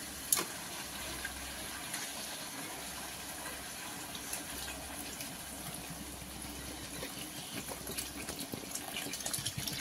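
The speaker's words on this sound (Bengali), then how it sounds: "এবার আমি পরিমাণ মতন জল দিয়ে দেবো ঝোলের জন্য।" Water poured steadily into a pan of spiced masala for a fish curry with ridge gourd and potato, a continuous soft gushing and splashing close by, without talk.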